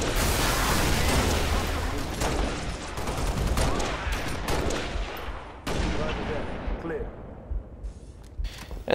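Dense gunfire from a Halo Reach firefight on Legendary difficulty in a courtyard, with rapid plasma and rifle shots in sustained loud bursts and thinning out toward the end.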